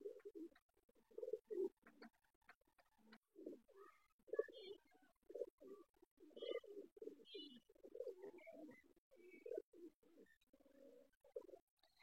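A male racing pigeon coos repeatedly, soft low throaty calls in an irregular rhythm, close and fairly quiet, with faint chirps from other birds.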